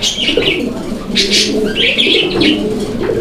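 A male pigeon coos in low, rolling phrases, close and fairly loud, with a few brighter chirping notes from other birds in the loft mixed in.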